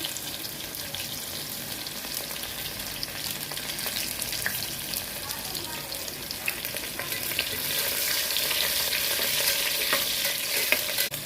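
Onions and four dried red chillies frying in oil in a home kitchen, a steady close sizzle that grows a little louder toward the end, with faint scraping stirs and no talk.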